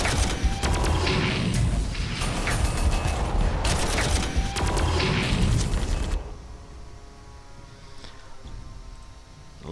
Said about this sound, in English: Mortar fire or the Earthshaker cannon.